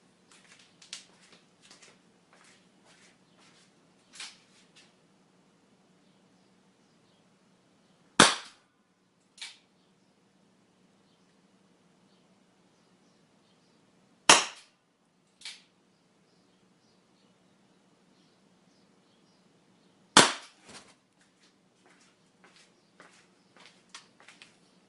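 An Anaconda launcher firing three Nokia phones, producing three sharp, loud gunshot-like bangs spaced several seconds apart, with faint clicks and small knocks between them in an otherwise quiet space.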